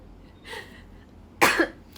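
A woman hosting a live chat stream coughs, a soft breathy cough followed a moment later by a sharper, louder single cough, close to the microphone.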